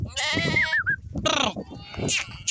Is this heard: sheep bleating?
yes